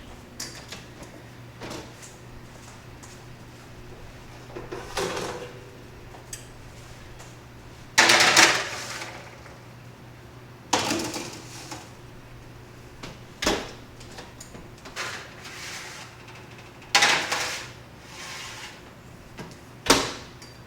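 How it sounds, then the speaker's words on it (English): Food trays slid into a home kitchen oven during meal prep, with several sharp metallic clatters and thumps at irregular intervals over a low steady hum, fairly close. "Let me just throw this stuff in the oven."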